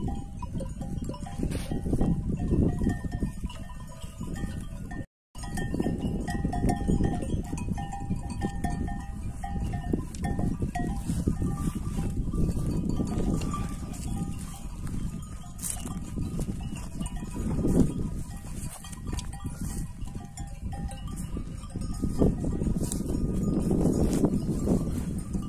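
A flock of sheep grazes by a lake. There is a continuous dense wash of animal movement, scattered bleats and the clank of bells, with trampling hooves throughout.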